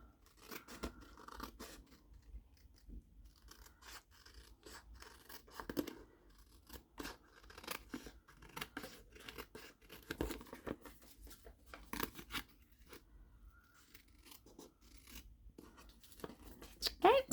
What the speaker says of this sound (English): now that it's secure, I'm just going to cut the excess off